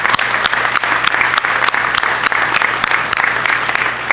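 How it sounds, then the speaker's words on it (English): A crowd claps steadily for several seconds at a government office grand opening, a dense, sustained round of applause with no voices over it. "I'd like to give a round of applause for our first responders that are here"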